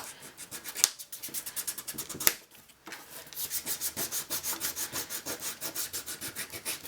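Edges of fussy-cut scrapbook paper are sanded in quick rhythmic back-and-forth strokes, close and clear, with a short pause before a faster, even run of rubbing.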